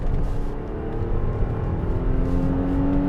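Steady, loud engine drone from a 2022 Nissan Pathfinder three-row SUV under acceleration, a continuous rising hum with road and wind noise heard from inside the cabin, no voices.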